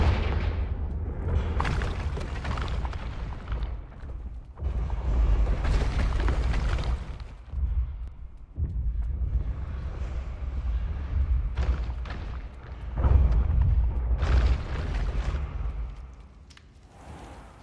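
Confringo spell blasts in Hogwarts Legacy, several loud booming explosions spaced a few seconds apart, each with a crackling burst and rumbling tail, close and forceful.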